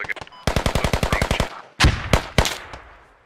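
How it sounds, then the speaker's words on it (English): Rapid automatic gunfire in the military shooter game Squad: a fast burst of about a dozen evenly spaced loud shots, a short pause, then several heavier, more spaced cracks and booms close by, with no talk. "They're getting accurate fire on me from somewhere."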